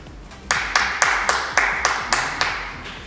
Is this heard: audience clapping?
yes